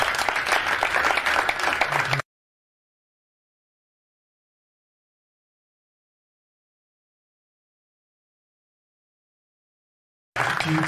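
A church congregation bursts into loud, dense applause for about two seconds, then falls silent for a long stretch before clapping resumes briefly at the close.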